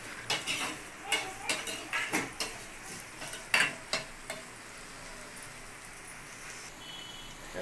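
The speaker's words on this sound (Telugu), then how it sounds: "ఉల్లిగడ్డ పచ్చిమిర్చి ముక్కలు అయితే అలా మధ్య మధ్యలో కలుపుతూ వేయించుకోవాలి" Chopped onion and green chilli frying in oil in a pan for a chapati breakfast besan dish, stirred with a utensil: a series of sharp scraping clanks against the pan over a soft background sizzle, fading to a quieter hiss.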